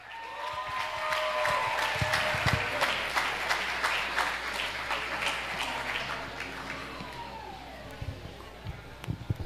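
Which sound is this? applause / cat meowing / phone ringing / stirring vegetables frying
applause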